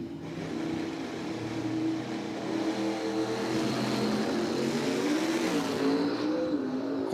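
Ford Falcon and Camaro drag racing down the strip at Cordova Dragway, with engines roaring hard and building steadily in a sustained, distant-to-near wall of loud mechanical noise.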